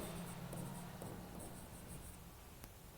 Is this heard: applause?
no